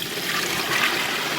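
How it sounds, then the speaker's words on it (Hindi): Water pours steadily into a pot of sautéed rice and green chillies for pea pulao, a close, continuous gushing splash with no pauses. "अब मैं डाल दूंगी इसमें पानी।"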